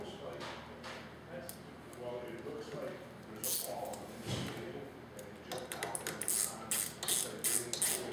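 Ratchet snugging a nylock nut on the clutch perch of a Victory motorcycle, quiet close clicking in short bursts that grow sharper toward the end, with a low voice speaking in the background.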